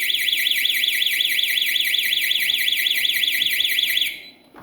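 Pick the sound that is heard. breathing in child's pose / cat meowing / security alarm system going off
security alarm system going off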